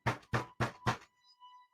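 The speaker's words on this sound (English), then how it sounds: "then there was a knocking at the door" Four firm evenly spaced knocks on a front door, close and clear, followed by a faint lingering tone.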